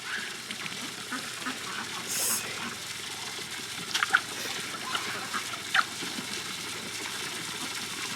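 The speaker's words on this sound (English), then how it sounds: "This is why I love having ducks." Backyard ducks splash and dabble in water, giving scattered wet splashes and trickles with occasional quacks, and a voice murmurs faintly in the background.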